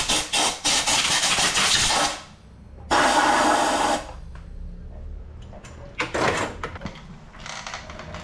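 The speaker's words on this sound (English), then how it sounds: "I'm gonna go ahead and blow that out" Compressed air blasts through the dirty air cleaner of a Honda FC600 tiller in loud, hissing bursts: two long blasts, then several shorter spurts close to the mic.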